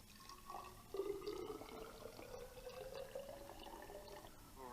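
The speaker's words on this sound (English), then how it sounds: "we will pour the water into a graduated cylinder." Water is poured from a flask into a graduated cylinder in a lab, a faint, steady trickling stream with a rising filling tone running for several seconds, no talk.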